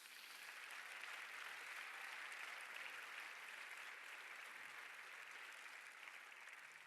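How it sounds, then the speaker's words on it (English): Audience applause at a film award ceremony, a dense, even wash of many hands clapping that holds steady throughout, moderately distant, with no talk over it. "Give it a warm applause, please."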